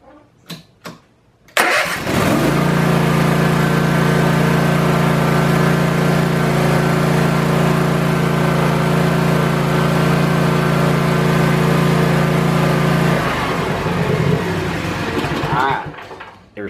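A small engine cranks with a few short bursts, then catches and runs loudly and steadily at wide open throttle for about eleven seconds before winding down.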